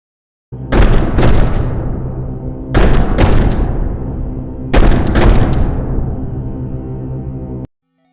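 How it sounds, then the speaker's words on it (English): Shotgun blasts in the video game Faith: The Unholy Trinity: three loud, close booms spaced about two seconds apart, each trailing off in a long ringing decay, with no talk. "Don't be afraid, kid. It's just the shotgun."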